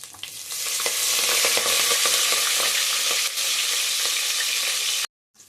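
Onions and whole spices, cumin, green chillies and fenugreek leaves fry loudly in hot oil for a Telugu goat head curry, a dense, continuous close sizzle with light stirring that stops abruptly near the end, no speech.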